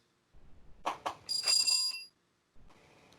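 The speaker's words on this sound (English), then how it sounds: "It sounds like the bell on the old Curiosity Shop." A small hand bell, compared to an old curiosity-shop bell, rings in a few quick bright strikes followed by a sustained shimmering ring, close and clear in a quiet room, with a soft rustle afterward.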